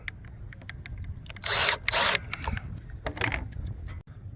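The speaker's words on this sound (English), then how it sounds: "Using the bolts to keep everything lined up from our pre-drilled holes, screwing the second layer together." Power driver screwing layers of a plywood emergency rudder together for a C&C 39 sailboat, two short loud whirring bursts followed by a fainter one, with small clicks and handling noises between.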